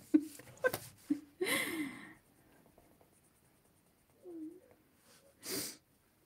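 A quick sneeze bursts out early on, followed by quiet, a soft voiced sound, and another short breathy burst near the end.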